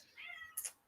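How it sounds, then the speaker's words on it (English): A house cat gives a single faint meow, a rising then falling tonal call followed by a short sharper squeak at the end, heard alone in a quiet room. "You can hear my cat meowing."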